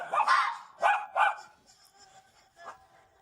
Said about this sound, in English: Dogs know how to bark, but I guess foxes only know how to yell.